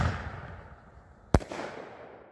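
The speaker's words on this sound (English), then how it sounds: "that's our 3 individual silver artillery shells" A single loud, sharp Black Cat silver artillery shell firework blast booms once near the middle, its echo fading out afterward over soft outdoor background noise.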